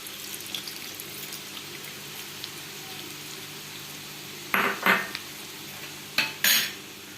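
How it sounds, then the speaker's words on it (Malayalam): Squeezed tamarind water is poured into a pot of vegetable sambar. A quiet kitchen background gives way to two short splashing, clattering bursts close by, then another pair near the end. No speech. "നമുക്ക് എടുത്തു വെച്ചിരിക്കുന്ന പുളി നന്നായിട്ട് പിഴിഞ്ഞ് ഇതിലോട്ട് ഒഴിച്ചു കൊടുക്കാം"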